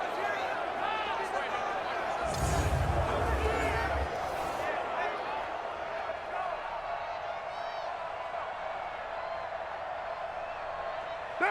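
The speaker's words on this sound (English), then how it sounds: "Listen to this crowd now." Dense stadium crowd noise in an NFL video game during a late fourth-quarter two-point conversion between the Oakland Raiders and Los Angeles Chargers, a steady roar with a brief thumping swell early on.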